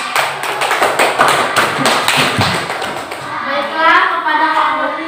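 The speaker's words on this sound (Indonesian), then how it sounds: "Beri tepuk tangannya." A classroom group claps hands after a student presentation, a burst of scattered, uneven claps that thins out over a few seconds with voices murmuring.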